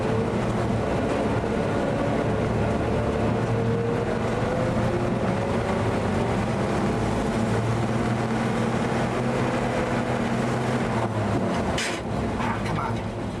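A vintage REO car drives with a steady low engine drone and rumble throughout, the mechanical noise continuous and close, with a brief sharper burst near the end as gears are shifted.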